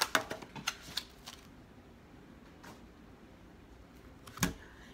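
Tarot cards are shuffled by hand in a quick burst of soft slaps and clicks, followed by a pause and one more sharp card snap.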